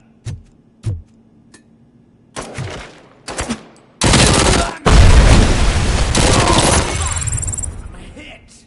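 Gunfire in RoboCop: Rogue City starts as scattered single sharp shots, then erupts into loud sustained automatic bursts with a heavy rumbling low end that trails off into a hiss.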